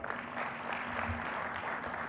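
Audience applause for an Honorable Minister at the launch of a testing service, a dense, steady patter of clapping that holds for a couple of seconds with no voices over it.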